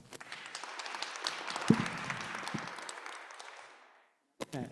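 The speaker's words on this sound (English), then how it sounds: "Let's give them a round of applause." A room audience claps for a panel of design speakers at a talk on ADUs in Tucson, a few seconds of moderate scattered applause that fades out, with a brief pause before some speech.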